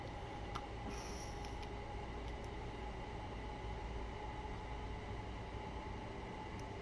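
In the Train Sim World 3 video game on the Brighton Main Line, a train comes in with a steady low rumble and hum of rolling stock, a few faint high squeals and ticks scattered early on.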